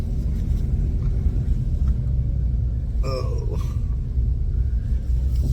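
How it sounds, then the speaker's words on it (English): A rent-to-own truck drives past on a road with a loud, steady rumble that dominates throughout, while a person briefly exclaims partway through. "Got to scoot over here so I don't get ran over by a rent-to-own truck"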